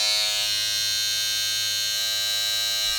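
Philips MultiGroom 7000 MG7770 electric trimmer running steadily, a loud continuous high-pitched motor whine with a low hum beneath, unbroken throughout.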